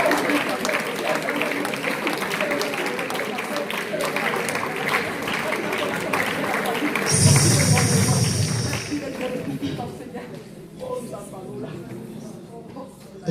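A church congregation clapping and cheering in acclaim for Jesus, a dense wash of applause under sung or spoken voices, swelling briefly in the middle before thinning out toward the end.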